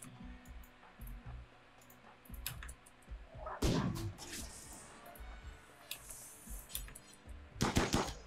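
Gunfire in the colony game Rimworld, scattered soft clicks followed by a loud burst of rapid shots, then a pause and another sharp volley near the end.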